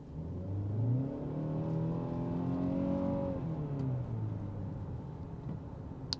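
A 2021 Hyundai Santa Fe engine in sport mode revs up and holds a rising, throaty drone, easing off toward the end, with steady road noise underneath.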